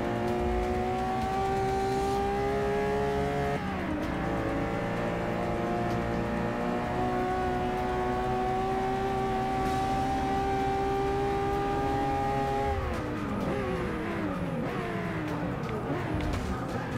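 Race cars scream around Monza in Forza Motorsport 6, a Ferrari F50 among them, engines holding high steady revs with clear pitch drops at gear shifts and some tyre noise, loud and continuous throughout.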